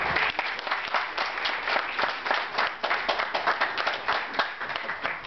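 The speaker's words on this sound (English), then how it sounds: "So if we can just give our judges a warm round of applause." An audience at a startup weekend pitch finale in Harare applauds the judges, a dense, steady round of clapping from a crowd that holds for several seconds without talk.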